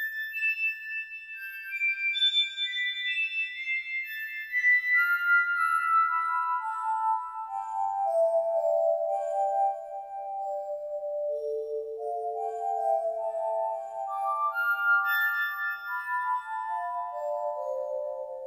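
Soniccouture Music Box sample library played as an ambient pad, clear bell-like tines in slow overlapping descending and rising melodic lines, soft and sustained with nothing else heard.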